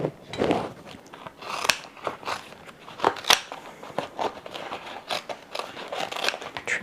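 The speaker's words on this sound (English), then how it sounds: "So I'm going to cut from the top where it's a little bit more pliable." Scissors cut through a thick, pliable leaf for a supermarket flower arrangement, giving a string of crisp, crunchy snips and crackles at an irregular pace, close to the microphone, with no talking.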